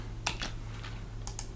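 Two short bursts of keystrokes on a computer keyboard enter a command, a few quick clicks each. They sound close and fairly quiet against a faint steady hum.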